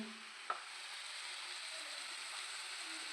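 Onions sautéing in a pan for hotel-style kothu parotta give a steady, even sizzle with a faint clink near the start, no voices over it.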